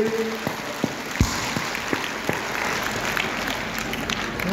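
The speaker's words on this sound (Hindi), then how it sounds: "तो जब ताली बजा करके समर्थन कीजिए" A large audience at a Bhagavat Katha religious gathering claps in sustained, dense applause, broad and steady, with a few louder claps standing out nearby.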